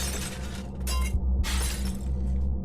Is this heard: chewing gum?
no